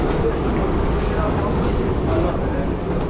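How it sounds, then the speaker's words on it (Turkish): Tehran metro train riding along, a loud steady rumble and rattle of the carriage filling the space, with people's voices under the noise. "Şimdi metroya binip gideceğiz Meydanı Azadi durağı."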